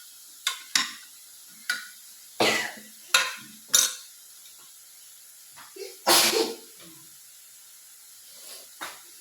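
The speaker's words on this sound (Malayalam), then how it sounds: "രാവിലെ മുളക് മുക്കിച്ചെടുപ്പം തുമ്മുന്നു." Someone in a home kitchen sneezes over and over from chilli fumes while chillies are fried, giving a series of sharp, close bursts spaced irregularly against a quiet background with a faint hiss.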